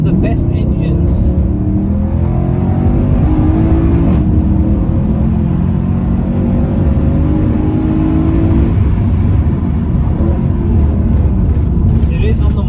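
A Mercedes C63 AMG W204 engine roars loudly and continuously, its pitch climbing as it revs hard, with a deep rumbling tone throughout.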